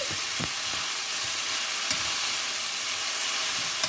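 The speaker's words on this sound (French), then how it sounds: "je mélange de nouveau tous ces légumes" Vegetables, including peas, sizzle steadily in a hot pot for a sambar dal soup, with occasional clicks and scrapes of a utensil stirring through the continuous frying hiss.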